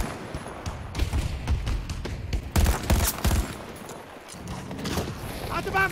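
Video game gunfire, several bursts of sharp, loud shots with thumping impacts clustered in rapid volleys, separated by brief lulls, close and punchy with some background game noise.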